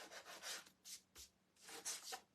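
Wooden knife block edges sanded by hand with sandpaper, several soft, quiet rubbing strokes in uneven bursts, close and faint, with no talking.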